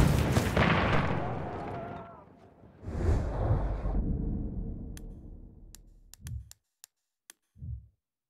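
Artillery strike explosions in Battlefield 1: a heavy boom that fades, then a second deep blast and rumble, followed by scattered sharp cracks and a couple of short distant thumps before silence.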